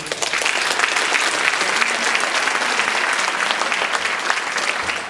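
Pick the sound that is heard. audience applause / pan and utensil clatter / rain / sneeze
audience applause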